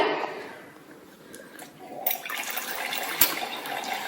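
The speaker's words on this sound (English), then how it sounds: "So once again, I have to wash the pipette with water." Water runs and splashes steadily while a pipette is rinsed at a chemistry lab bench, the flow rising and growing brighter partway through, with no voices.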